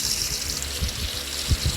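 Running shower water inside a house in the Roblox game Brookhaven, a steady hiss of spray with a few low thumps, fairly close and alone without talk.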